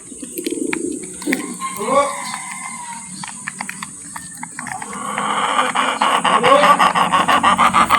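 Pigeons coo softly near a person speaking, then a busier patch of flapping and shuffling builds toward the end.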